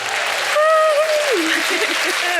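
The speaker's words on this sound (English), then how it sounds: "Let's just give Ju a big round of applause." A group applauds for a student on a school podcast about cyberbullying, steady clapping heard alongside voices that rise and fall over it.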